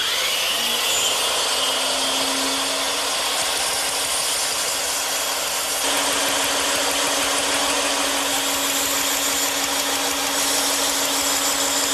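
A bandsaw cuts a column profile out of wood, a continuous loud whine with a steady hum and hiss of blade on timber that keeps going with no pauses.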